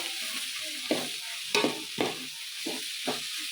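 Corn tempering (usuli) sizzles in a pan while a spoon scrapes and stirs it in several distinct strokes, with a soft constant frying hiss underneath.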